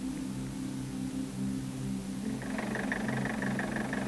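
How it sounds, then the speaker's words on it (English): A diesel engine with a distributor-type (VE rotary) injection pump idles steadily with a low, even hum, and a higher rattling clatter joins partway through and continues to the end. "start the engine, check the idling speed, and adjust it if necessary"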